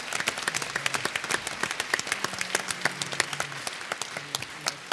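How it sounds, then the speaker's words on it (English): Symposium audience gives a round of applause, many hands clapping in a dense, sustained patter that stays fairly even throughout, with a faint voice briefly audible beneath. "A nice round of applause."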